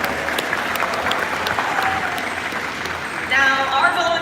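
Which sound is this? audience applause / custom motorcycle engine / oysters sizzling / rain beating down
audience applause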